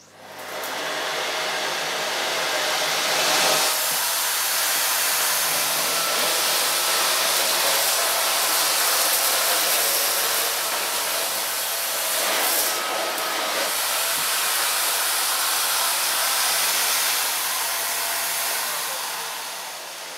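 Miele S8 Power Plus cylinder vacuum cleaner running at maximum power on its hard floor setting, a loud steady broadband whooshing roar that holds for the full length with small dips as it is pushed and pulled.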